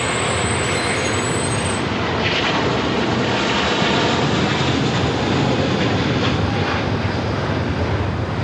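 An airliner takes off from LAX, its jet engines giving a loud, steady broadband roar that holds throughout.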